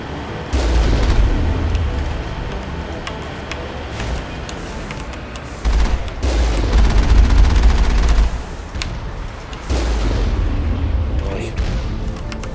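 A turret fires in the Mass Effect video game with loud, repeated bursts of rapid gunfire and heavy booms. The bursts come in several waves over a continuous rumbling background.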